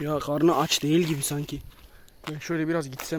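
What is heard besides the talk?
No distinct noise like a dog, phone or traffic.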